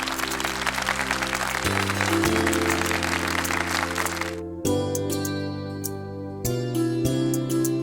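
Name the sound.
audience applause welcoming a performer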